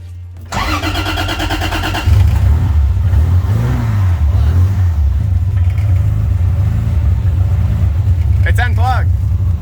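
A 1000hp 2JZ-engined Supra drift car cranks over, fires up loudly and settles into a rough, lumpy idle with a few revs, close by, with people talking around it.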